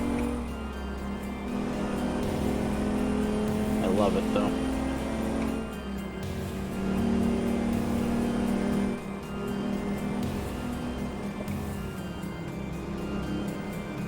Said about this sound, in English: Is the truck noise too loud still? I know this truck is loud.